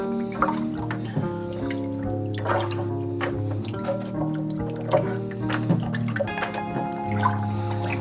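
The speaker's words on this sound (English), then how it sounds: "Once you get these peanuts washed here, go ahead and rinse them out a couple more times" Tap water runs and drips over raw peanuts being rinsed in a strainer in a kitchen sink, a steady close trickle with scattered splashes and drips and no talk.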